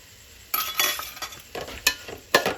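Vegetables, including beans and potato, sautéing in a pan for kurma, with a soft sizzle broken by several loud scraping stirs of a spoon against the pan.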